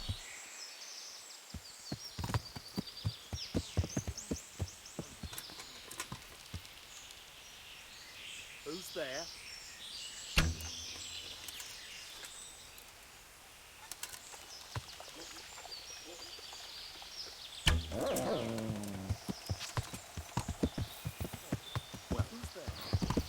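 Horse hooves clip-clop in a steady rhythm while riding through a bandit camp in Kingdom Come: Deliverance, mixed with game ambience, birds and insects, with voices talking over the hoofbeats.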